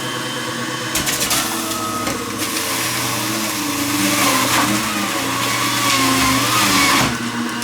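An old, leaking juicer runs steadily with a loud, droning motor whine and rattling, grinding churn that rises and falls slightly as produce is pushed through, with no talking.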